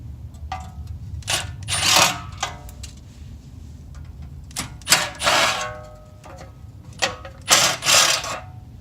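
Tools remove three 10 mm bolts holding the dust cover on a BMW E46 ZHP front wheel hub during a bearing replacement, producing bursts of close mechanical whirring and ratcheting, separated by quieter pauses.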